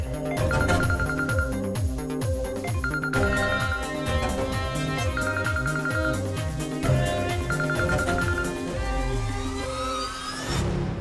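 A phone ringtone plays on and on with a repeating melodic pattern, loud and unbroken, with no one picking up.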